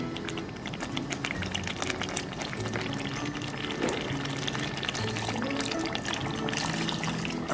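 Water pours steadily into chicken korma cooking in a pot with onion, coconut, poppy seeds and garam masala, a continuous splashing, trickling sound lasting several seconds with no voices.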